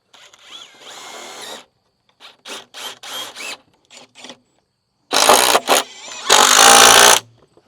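A power drill drives screws into exterior lumber brackets: several short whirring bursts, then two louder, longer bursts near the end, heard up close.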